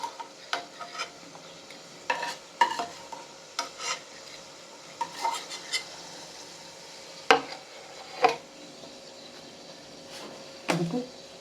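Dried prawns are stir-fried in oil in a pan, with scattered scraping stir strokes and clanks over a soft, steady sizzle. The sounds come in irregular bursts.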